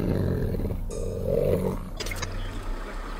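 An old lion gives a deep, rumbling roar, rising to a louder guttural peak midway and then trailing off, heard close and alone with low background noise.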